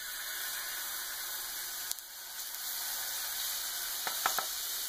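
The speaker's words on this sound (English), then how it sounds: "I'm going to pour some batter in." A steady, close sizzle of crepe batter frying in a hot skillet, with a brief clink partway through and a few soft taps near the end.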